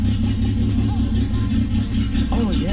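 Car engine running with a newly installed exhaust and no muffler, a loud steady rumble with mild revving, close up, while people talk over it.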